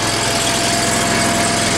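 An engine with 375 hours on it idles slightly fast, holding a loud, steady, close drone with an even low throb and no variation or speech over it.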